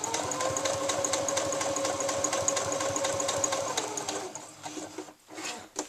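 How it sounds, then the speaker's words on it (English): Sewing machine running a steady straight seam joining lining to a bodice, rapid even stitching rhythm close up and alone, slowing and stopping near the end. "I'm just going to sew a nice straight line"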